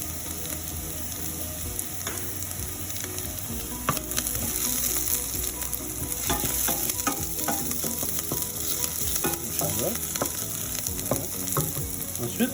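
Shallots and chili sauté in hot oil, a steady crackling sizzle with scraping stirs and utensil clicks throughout.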